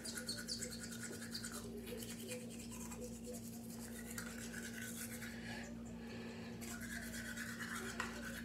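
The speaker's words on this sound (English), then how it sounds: "But we're about to brush our teeth." A toothbrush scrubs teeth in a steady, close, continuous rasping rhythm, with a constant low hum underneath and no talk.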